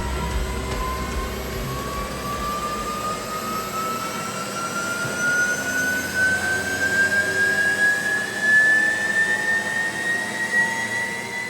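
Porsche Taycan Turbo S electric drive motor running on a factory test bench toward 16,000 RPM under 8,000 Nm wheel torque, a steady loud whine rising slowly in pitch over a broad rushing roar, with no talk.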